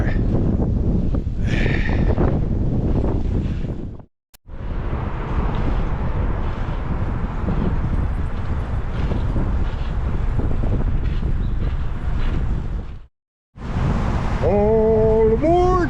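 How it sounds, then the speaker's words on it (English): Strong gusty wind buffeting the microphone on a seaside boardwalk, a loud continuous roar broken by two brief silent cuts, with a short tonal sound near the end. "Man, that wind is kicking."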